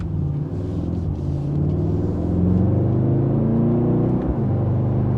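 Mercedes-Benz GLS 63 AMG engine and exhaust, a steady low rumble with engine tones rising gradually as it accelerates, heard close and continuous with no talk.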